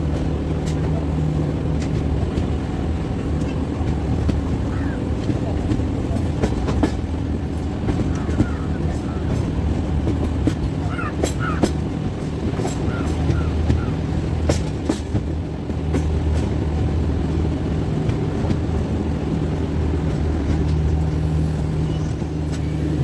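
The Kaifiyat Express 02226 rolls on from Malipur toward Shahganj, heard from on board as a constant loud rumble with steady rattling and faint clicks of wheels on the track, unbroken for the whole stretch.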